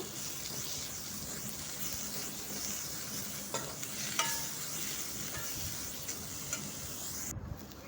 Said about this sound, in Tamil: இப்போ இதெல்லாம் நல்லா கொஞ்சம் வதக்குங்க